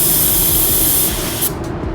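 A paint spray gun set to 26 PSI with full fan and full fluid hisses in a steady, close, loud spray burst that cuts off abruptly near the end.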